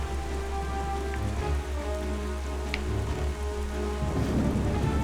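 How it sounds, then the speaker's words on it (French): Steady storm rain and a low thunder rumble fill a stormy sea scene in the video game Zelda Wind Waker, a continuous mid-level wash of rain over deep rolling tones, with no voices. "Il y a encore une tempête."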